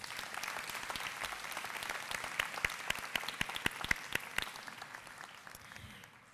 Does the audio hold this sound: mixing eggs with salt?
no